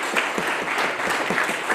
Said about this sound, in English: So huge round of applause to everyone involved here